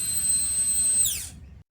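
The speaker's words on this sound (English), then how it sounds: "Sounds a bit like a dentist drill." A seized fuel pump from a 2008 Harley-Davidson Rocker C, wired directly to power on a bench, whines at a steady high pitch like a dentist's drill, then winds down and cuts out near the end.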